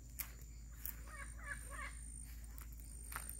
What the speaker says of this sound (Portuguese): Tá aqui o papagaio, bora aqui.